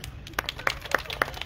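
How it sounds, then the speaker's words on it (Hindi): Scattered claps from a small crowd at a lucky-draw prize ceremony, a few sharp separate hand claps in quick succession, moderately near and not very loud. "तालियां"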